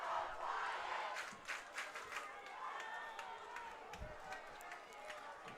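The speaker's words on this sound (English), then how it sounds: "The Maples fans here really cheering on their defense." Football fans in the stands at an Adrian versus Tecumseh high school game cheer and shout at a distance, a broad crowd roar that swells at first and then settles into a steady hum.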